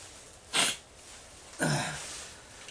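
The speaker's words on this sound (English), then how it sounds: "let me blow my nose real quick, or wipe it anyway." Two close, short nasal blows or sniffs, the second longer and heavier, with quiet room noise between them.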